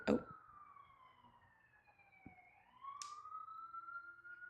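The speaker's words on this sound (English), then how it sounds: "We're like on a street, so there's like a lot of cars and sirens and stuff" A siren wails from a distance, its tone sliding down and then rising again, heard faintly over quiet street noise with a brief sharp sound midway.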